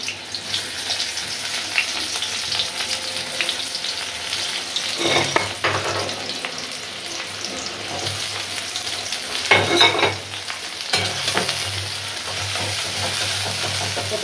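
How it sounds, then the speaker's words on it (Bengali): Chopped onion sizzles and fries in a hot kadhai for a potato and flat bean bhaji, a steady crackling hiss with a couple of louder stirring bursts, no talking. "কড়াই দিয়ে দিছি, গরম হয়ে গেছে, পেঁয়াজ দিয়ে দেবো।"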